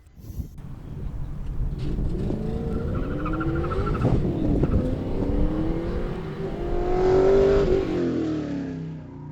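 Race cars run at a Hampton Downs sprint event, among them a Honda Integra fitted with a 1UZ V8 and converted to rear-wheel drive, their engines loud and near as they rise and fall in pitch through sustained acceleration.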